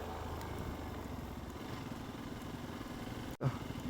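A motorcycle rolling slowly along a wet, slippery monsoon road, its engine a steady low drone throughout with a brief dropout near the end.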